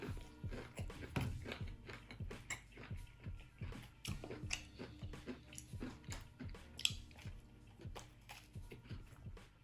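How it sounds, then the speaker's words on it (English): Crunchy fried chicken tenders in the style of KFC Nashville hot tenders are chewed close to the microphone, with repeated crisp bites and steady mastication and no talking. "One thing I'm really happy about is that it's really kept its crunch."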